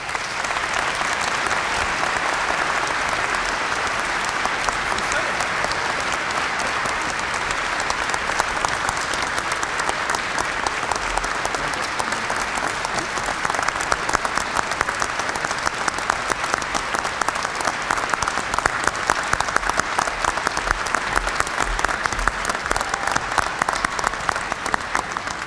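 Long, sustained applause from a large crowd after a commencement speech at the College of Charleston's 2017 winter ceremony, an even roar of clapping that grows a little stronger in the second half.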